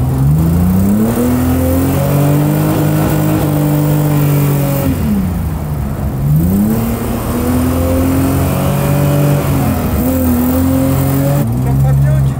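A drift car's engine revs hard and continuously, pitch climbing, dipping and climbing again through several throttle swings, loud and close with tyre noise beneath and occasional voices talking over it.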